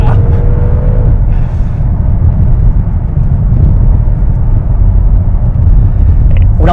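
An Audi RS6 Avant in Dynamic driving mode rumbles with a loud, steady low engine drone heard from inside the car, holding its strength throughout.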